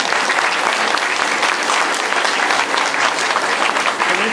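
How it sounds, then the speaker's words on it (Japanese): Dense, loud audience applause at the Intel in Akiba 2010 Summer event in Tokyo, steady and unbroken throughout as a guest comes on stage. "じゃあ皆さん拍手で。"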